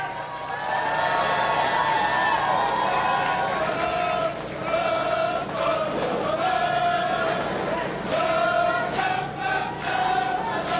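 A large crowd at an outdoor election campaign rally in Seogwipo applauds and cheers loudly and continuously, with scattered shouts and whoops rising over the steady clapping.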